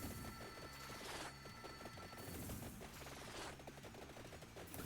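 Rapid gunfire from weapons in the video game Vampire Survivors, a dense continuous stream of shots and crashes at steady loudness with game music throughout.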